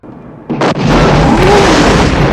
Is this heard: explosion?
yes